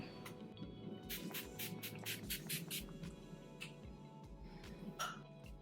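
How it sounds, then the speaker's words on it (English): Urban Decay All Nighter setting spray is pumped onto a face in a rapid series of about a dozen short, soft hissing spritzes, faint and close. "I'm going to go in with the Urban Decay All Nighter setting spray and just give myself a bath with it."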